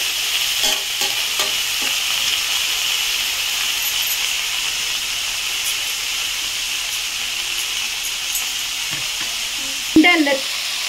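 Broad beans sauté in about two teaspoons of oil in a pan, a steady close sizzle and hiss running throughout with occasional stirring clinks.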